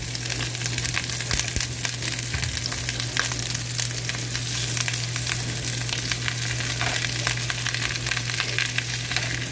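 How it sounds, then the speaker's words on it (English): Green beans dumped into a pan of melted butter fry with a dense, continuous sizzle. Crisp crackles and light stirring scrapes sit on top of a faint low hum, with no voices. "the butter is now melted in the pan, and we're going to just go in and dump our green beans"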